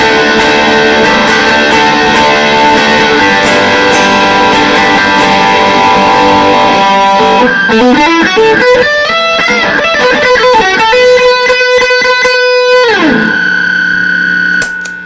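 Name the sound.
electric guitar through overdrive and distortion pedals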